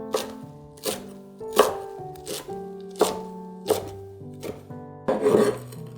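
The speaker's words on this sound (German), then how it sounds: "Koriander klein schneiden." A knife chops coriander on a board in a series of sharp, close taps, roughly eight strikes at an uneven pace, over soft background music.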